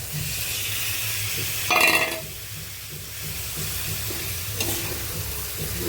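Clams sputter and hiss in a pan with softened onion and tomato while a spoon stirs them. A brief clatter of shells and utensil stands out near the start, over a low, steady sizzle.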